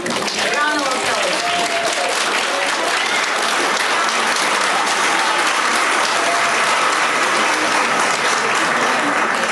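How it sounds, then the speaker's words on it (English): Dense, loud applause from an audience at an Ilocano-Irish Association induction ceremony greets barrister Kate Connolly, a continuous wash of clapping that holds steady for nearly ten seconds, with a brief voice audible at the very start. "A round of applause"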